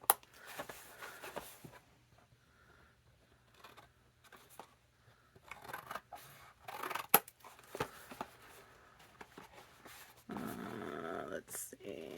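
Scissors snip through 12 inch paper in short, scattered cuts, crisp and close, with quiet gaps and a denser rustling burst near the end.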